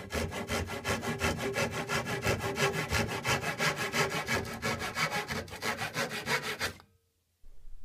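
Steady back-and-forth rasping of a file on a wooden dowel, rapid rhythmic strokes for several seconds, close up, then stopping abruptly.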